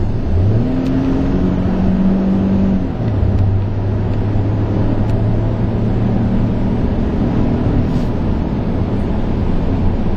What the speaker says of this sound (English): Now, while this truck may have 6 cylinders, it certainly doesn't sound like your average V6.